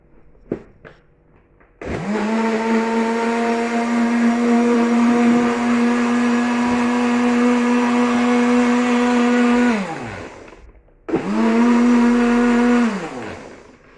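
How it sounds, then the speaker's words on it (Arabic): A blender blending mint leaves and water roars loudly for about eight seconds, then winds down, pauses briefly and whirs again before slowing to a stop. "وبجيب الخلاط بتاعي واحط فيه المية بالنعناع"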